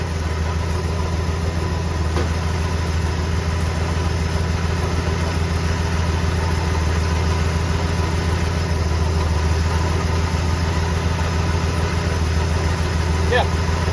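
Ford F100 pickup engine idling with the alternator charging, a loud steady low rumble with an even mechanical hum that holds unchanged throughout.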